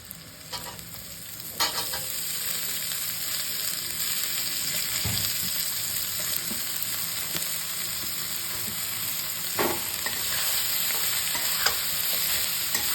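Khesari greens, pumpkin, eggplant and potato with a little turmeric frying in a pan for a Bengali chorchori: a continuous close sizzle, broken by occasional scraping stirs, with no talking.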